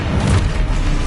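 A deep, loud magical blast from the Expulso explosion spell in Hogwarts Legacy booms and rumbles through the whole second, heavy and close.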